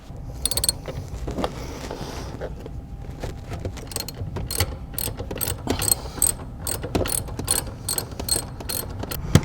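A hand ratchet loosens the seat bolts on a Mercedes SL500 R230, with rapid bursts of close, sharp clicking that start and stop unevenly over several seconds, with no voices.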